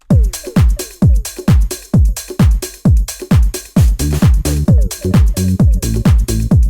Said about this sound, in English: the full drums in the main element of the track sound like this.